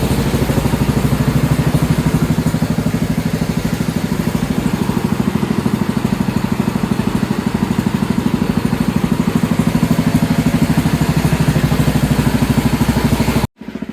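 A Sears 10XL garden tractor engine runs steadily near and loud, a rapid even chugging idle with mechanical clatter that cuts off abruptly near the end.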